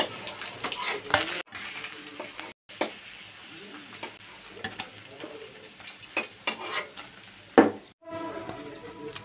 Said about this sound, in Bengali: এখন বাকি মাছগুলো আমি এপিট ওপিট করে ভেজে নেব